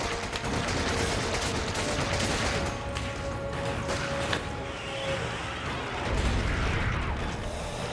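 Gunfire in Resident Evil 5, a dense, clattering run of shots and mechanical bangs over a steady rumble, continuous and fairly loud with scattered sharper reports.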